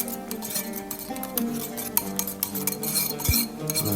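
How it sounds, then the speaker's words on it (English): A whisk stirs a Kashmiri chili powder mixture in a bowl, giving steady close scraping and light clinks of metal against the bowl's sides, with a few sharper taps along the way. "We're going to nicely whisk this."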